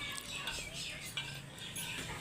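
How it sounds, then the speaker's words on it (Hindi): A spoon stirs curd (dahi) in a bowl for a chana chaat, giving a steady soft scraping and light clinking of utensil against the bowl, fairly continuous throughout. "इसको हम थोड़ा सा मिक्स कर लेते हैं"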